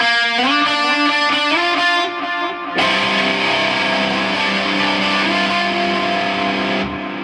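Loud distorted electric guitar chords ring out, with unmuted strings, one struck and sustained, then a second fuller chord held for several seconds before cutting off.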